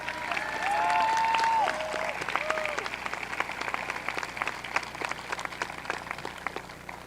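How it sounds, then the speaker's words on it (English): A high school graduation audience gives a speaker a round of applause, a steady wash of many hands clapping at moderate distance, with a few tonal sounds early on. "give Sophia Phillips a very well-deserved round of applause"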